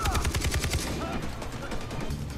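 Rapid turret gunfire bursts out in a Far Cry 3 firefight, loud and close, fast repeated shots that thin into scattered cracks amid game noise.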